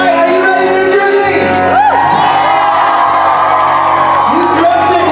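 A packed convention crowd in New Jersey cheers and whoops loudly, a dense roar of shouts and yells that swells and stays constant throughout, close and overwhelming.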